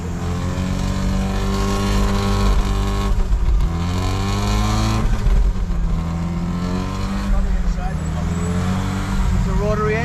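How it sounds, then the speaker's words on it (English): A Mazda rotary-engine car revs up close, its engine note rising and falling in pitch with a buzzy, almost turbo-like whine and steady loud drone, while people talk over it. "Give it a little rev."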